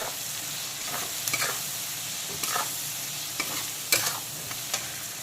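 Chopped onion and tomato with salt and sugar fry over low-to-medium heat in a pan, a steady soft sizzle broken by several scraping stirs of a spoon, with no talking.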